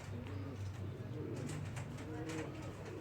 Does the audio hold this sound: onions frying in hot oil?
no